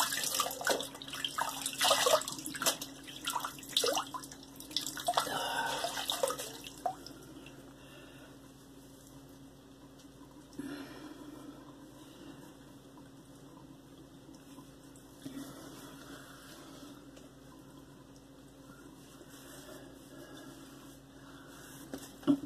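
Running tap water splashes loudly during a rinse after a wet shave with a badger brush, busy for the first several seconds, then easing into a quieter, steady flow with faint drips.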